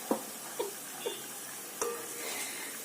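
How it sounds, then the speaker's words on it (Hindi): White beans in a masala being stirred and fried in a pan, a few sharp scraping stirs with a light sizzle underneath, close and moderately quiet with no talking. "दो मिनट के लिए भूनेंगे इनको।"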